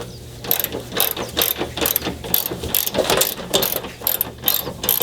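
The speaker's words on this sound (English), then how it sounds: "I got my old power torque ratchet here that we're going to be utilizing for this repair" Manual power torque ratchet with a 3/8 to 1/2 inch adapter and socket working on the upper engine mount of a 2012 Honda Civic 1.8 liter, giving repeated close, loud clicking bursts in uneven strokes.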